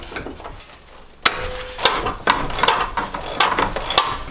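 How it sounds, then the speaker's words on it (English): A wrench strikes a riding mower spindle bolt held by a vice grip, giving about half a dozen sharp metallic knocks spaced unevenly over a few seconds, close and fairly loud, with no talk. "and then hitting it around the other side with my wrench"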